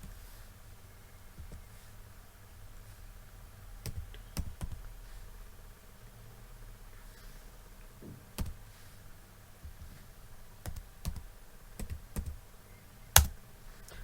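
Intermittent keystrokes on a computer keyboard while entering text in MS Word: scattered taps and a few sharper clicks separated by pauses, fairly quiet against a faint steady background hum, with no voices.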